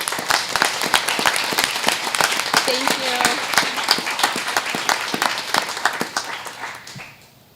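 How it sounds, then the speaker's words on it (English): Crisp, scattered hand claps from a modest audience at a school presentation for families, fairly close and rhythmic, thinning toward the end, with a brief spoken thanks over the top. "I'd like to give them a big round of applause"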